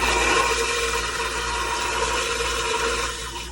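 Dometic Masterflush 8620 RV macerator toilet emptying, a steady loud whirring grind of the pump and rushing water, continuous and close, easing slightly toward the end.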